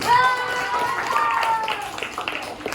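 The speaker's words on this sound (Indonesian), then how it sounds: "Oke, tepuk tangan buat David" Classroom applause from students, a short burst of clapping mixed with children's voices and chatter, close and moderately loud.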